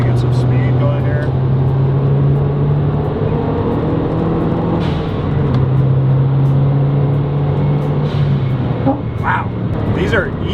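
A MazdaSpeed 3 riding on budget coilovers over a bumpy road, its engine humming loud and close from inside the cabin as it gathers speed, with a steady tone that climbs slightly and road rumble underneath.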